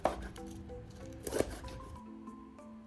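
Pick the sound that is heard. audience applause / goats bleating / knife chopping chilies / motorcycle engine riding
knife chopping chilies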